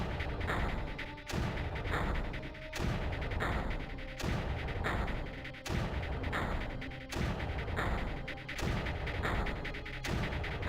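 Mortar fire in the strategy video game Creeper World: loud, regular volleys of booming shots and crashing impacts, about one every second and a half, repeating steadily with no voices.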